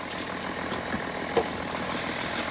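A diesel truck engine idles with a steady, even hum that holds at a moderate level through the whole stretch, broken only by one small knock partway through, with no voices.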